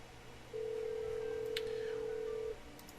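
A Cisco phone sounds a single steady electronic ring tone for an incoming video call, clear and close, lasting about two seconds over a quiet background hum.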